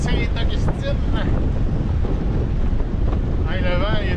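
Strong wind gusts buffet a boat under sail near Saint Augustine, gusting to about 30 knots, a steady loud roar against the microphone, with faint voices in the background.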